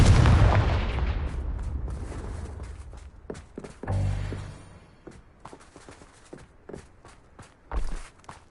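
In the video game Hogwarts Legacy, a Confringo fire spell is cast with a heavy booming burst, followed by scattered thuds and footstep-like impacts that fade into quieter rustling.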